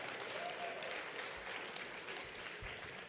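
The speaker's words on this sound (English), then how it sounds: "Give yourselves a round of applause." Breakfast event audience giving a round of applause, a continuous wash of many hands clapping, fairly distant and soft, sustained evenly across the whole stretch.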